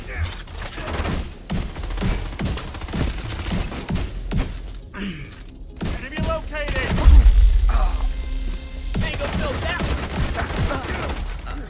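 A Scorpio shotgun fires again and again in The Division 2, a series of loud sharp blasts at an irregular pace mixed with impact crashes and game effects, with a heavy burst partway through.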